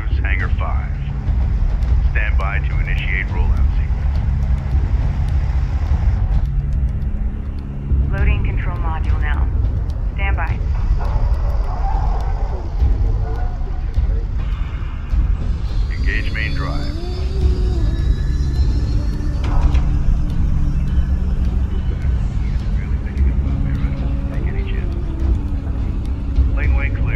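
Heavy, continuous low rumble of the expedition carrier Kapisi rolling out in the video game Homeworld: Deserts of Kharak, loud and sustained under intermittent radio-style voices and mechanical whines.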